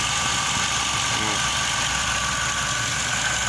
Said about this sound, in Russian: Движок слышно, работает как часики.